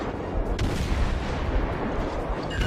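Naval guns firing high-explosive shells in a warship video game, a dense continuous barrage of booming shots and rumbling blasts, loud and close with no voices.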